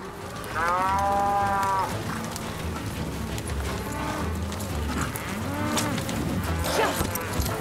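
Cartoon cattle mooing during a cattle drive, several long loud moos in succession over a steady rumble of the moving herd.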